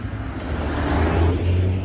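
A road vehicle, one of a string of emergency vehicles, drives past with a steady, close engine and tyre rumble that swells slightly near the end.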